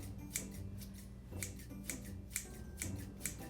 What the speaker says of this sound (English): don't mind my scissors, I don't have my hair cutting scissors